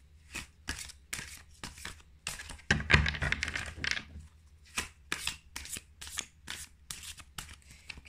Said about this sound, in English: Okay, so shuffle the cards.